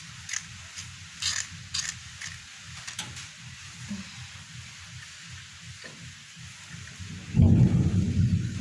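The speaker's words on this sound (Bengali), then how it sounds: "বিদ্যুৎ চমকাচ্ছে, অনেক ডাকছে" Thunder rolls and rumbles through a rainstorm, with soft rain and scattered crackles, then a loud, deep roll swells near the end.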